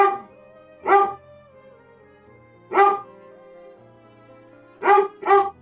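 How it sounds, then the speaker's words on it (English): A pet dog named Quicksilver barks in short, loud, separate bursts, two early, one mid-clip and a quick closing pair, with quiet room tone between. "No, you don't get to just bark your way into getting whatever you want"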